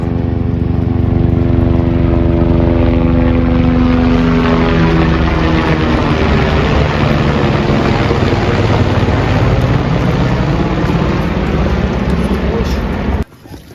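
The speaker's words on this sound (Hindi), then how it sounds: "1 मिनट से भी कम टाइम में हेलीकॉप्टर आ रहा है।" A helicopter passes over the Amarnath Yatra route from Baltal in the mountains, its loud rotor and engine roar filling the whole stretch close overhead before cutting off abruptly at the end.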